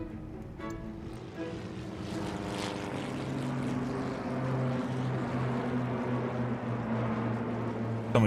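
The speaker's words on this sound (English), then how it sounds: "So many fucking planes flying over my city now." Propeller airplanes drone steadily overhead above a city in Cities Skylines 2, a continuous loud engine hum with layered tonal whine that swells slightly toward the end, with no voices.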